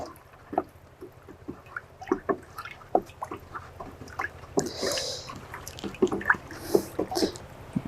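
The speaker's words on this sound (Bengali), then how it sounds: "ভালো করে জলের সঙ্গে মিশিয়ে নিলাম" Decompost mixture being stirred into water with molasses: irregular close sloshes, drips and splashy stirring strokes, with a brief rushing pour of water midway and no talk.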